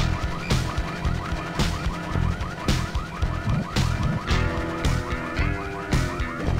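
An alarm in the video game Full Throttle blares loud and alone, a repeating warbling siren pulse that cycles roughly once a second.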